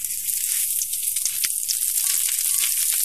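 Broccoli and carrots stir-frying in a little oil in a wok over high heat, a steady close bright sizzle with scattered crackles and pops throughout, no voices.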